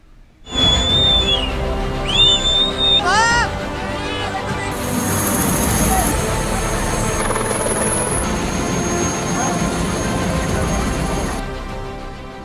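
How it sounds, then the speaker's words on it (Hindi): A Chinook helicopter flies over a cloudburst-hit village in Dharali, Uttarkashi, during an army rescue operation, its loud steady rotor drone continuous throughout, with brief whistle-like tones and a faint murmur of voices early on. "इस ऑपरेशन के लिए चिनूक हेलीकॉप्टर की भी सहायता ली जा रही है।"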